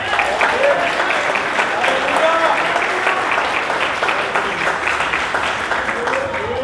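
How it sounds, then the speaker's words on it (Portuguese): An audience breaks into steady, continuous applause, dense clapping at full volume throughout with faint voices mixed beneath. "Vamos aplaudir mais uma vez."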